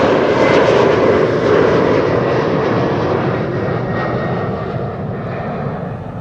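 An Iberia Express airliner at Amsterdam Schiphol gives off a loud, rushing jet engine roar that is strongest at the start and then fades gently as the aircraft moves away.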